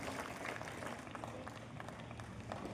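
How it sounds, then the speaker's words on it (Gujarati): An audience at a school poetry recitation contest claps in a steady, dense round of applause that holds at an even level throughout, with faint crowd murmur underneath. "આપણે તાળીઓ ન ભૂલીએ તો એક વખત ફરી વખત તાળીઓથી વધારી"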